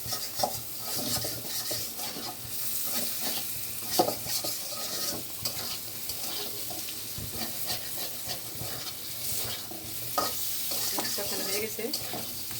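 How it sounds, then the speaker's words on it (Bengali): Snakehead fish sizzles as it lightly fries with spices in a pan, a steady crackling hiss broken by scraping stirs and an occasional clink of utensil on metal. "মাছ দিয়ে মশলাটা একসাথে একটু কষিয়ে নেব, কারণ মাছটা একটু আমি হালকা ভাজা করছি।"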